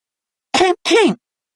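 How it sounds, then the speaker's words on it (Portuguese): A person clears their throat in an exaggerated way, two short rough bursts close to the microphone, in an audiobook reading of Harry Potter and the Order of the Phoenix, alone in silence. "pigarreando com exagero antes de começar a lê-lo"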